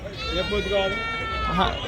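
Goats bleating at a weekly goat and sheep market, loud, close, wavering cries stretched across the moment while someone talks over them.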